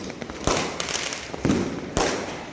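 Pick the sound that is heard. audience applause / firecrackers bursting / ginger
firecrackers bursting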